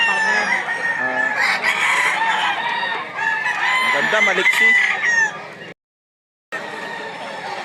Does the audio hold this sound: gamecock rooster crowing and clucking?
yes